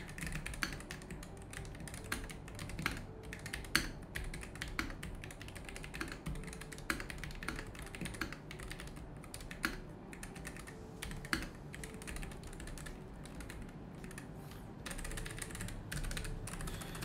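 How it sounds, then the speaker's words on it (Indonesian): Typing on a Royal Kludge N80 low-profile keyboard, a steady run of soft, quick key clicks and taps lasting throughout, close and fairly quiet with no talking. "untuk suara dari keyboard satu ini kita tes aja sama-sama ya"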